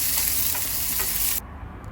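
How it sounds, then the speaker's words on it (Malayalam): Shallots and curry leaves sauté in hot oil, a loud close hissing sizzle with stirring that cuts off abruptly after about a second and a half. "പിന്നെ എന്നിട്ട് ചെറിയുള്ളി ഇട്ടിട്ട് ഒന്ന് വഴറ്റുക."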